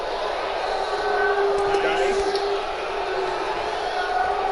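A UFC 2 video game arena crowd roars in a steady, moderately loud wash of cheering, with faint shouts rising briefly midway.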